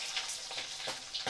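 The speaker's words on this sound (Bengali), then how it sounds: "আর এক সাইডটাও ভালো করে আমি লাল করে ভাজা করে নিচ্ছি" Catla fish pieces sizzle steadily in hot oil, a continuous crackling hiss with a few brief spatter bursts over a short stretch, with no talking.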